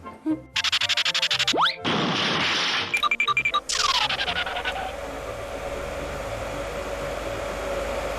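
A hair dryer blows in loud bursts that start and stop, with a steady whoosh fading into a softer ongoing hum, set among cartoon-like sound effects and music.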